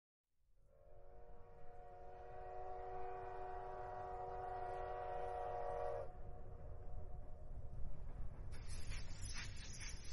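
A train sound effect with a steady, loud harmonic whistle blast held for several seconds over a rumbling rail background, then cut off and followed by clattering mechanical rail noise.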